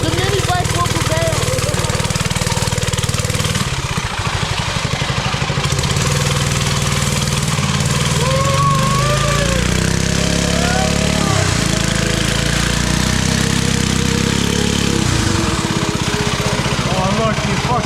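Mini bike engine running close by, a loud, steady rattling putter with small shifts in revs, and voices now and then over it.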